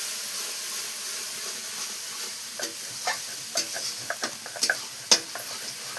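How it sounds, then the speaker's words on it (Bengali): A cumin-coriander paste frying with tomato paste in a pan while crab curry is being cooked, giving a steady hiss and sizzle with scattered pops and stirring clicks that sharpen toward the end. "এটা একটু ভাজে নেব।"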